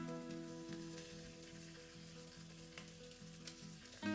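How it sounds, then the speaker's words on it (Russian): A second batch of beef sizzles steadily in a pan for a stew-style roast, a constant close frying hiss with light music playing underneath and a louder burst at the very end. "Обжариваем вторую часть мяса"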